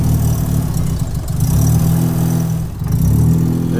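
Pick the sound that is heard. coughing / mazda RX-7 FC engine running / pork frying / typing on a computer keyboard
mazda RX-7 FC engine running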